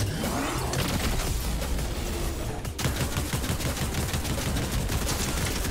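Rapid gunfire in a shooter video game, a dense continuous fusillade of close, loud shots with no pause, including pump shotgun fire.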